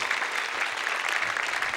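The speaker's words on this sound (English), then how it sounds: "Round of applause for Mr. Leland Klassen." Steady applause from a stand-up comedy audience welcoming a comedian to the stage, dense and even throughout without pauses.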